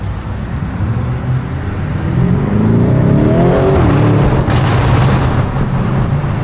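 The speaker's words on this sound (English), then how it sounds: "Did you hear that backfire?" A stock Lamborghini Urus engine revs hard up close, its roar climbing in pitch and then dropping, with sharp pops near the end that fit a backfire.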